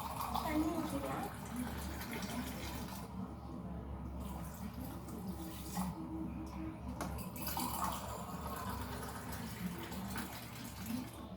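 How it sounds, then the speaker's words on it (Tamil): A tumbler of water being poured into a bowl in a home kitchen, a steady splashing pour running under a woman's speech throughout. "தண்ணி ஊற்றிக்கலாம்."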